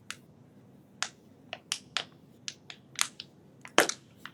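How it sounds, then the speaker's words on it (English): A scissor blade piercing a plastic water bottle, a series of sharp plastic crackles and pops, about a dozen brief snaps at irregular intervals, close and crisp against a quiet background. "take one of the blades and just make a hole at the back edge of the plastic water bottle"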